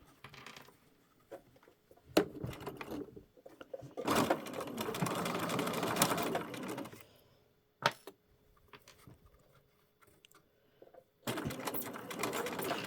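A sewing machine stitches an invisible zipper into fabric in bursts of steady running. Short pauses with faint handling noise separate the runs, and each burst is close and fairly loud.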